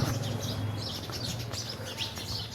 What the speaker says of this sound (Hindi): देखिए चिड़िया भी बोल रही है सब यहाँ पे।